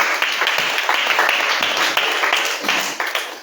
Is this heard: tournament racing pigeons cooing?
no